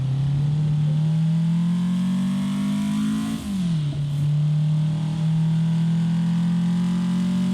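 A race car engine in a PC racing game, a Nissan Silvia S13 or Toyota AE86, drones steadily at high revs, dipping briefly as it downshifts mid-way then climbing again, with a buzzy, thin tone and no talking.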